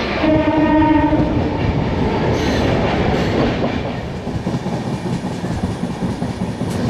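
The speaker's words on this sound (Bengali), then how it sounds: "খুর্দা ট্রেন ঢুকছে" A train pulls into Khurda station in Odisha. A loud horn blast opens over a heavy rolling rumble, then the close, steady clatter of wheels and carriages goes on, with no voices.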